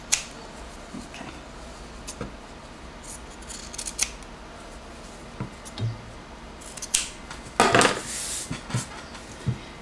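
Close, quiet snips of scissors trimming back fabric bias binding at a neckline during sewing, scattered cuts with small handling rustles between them and no talking.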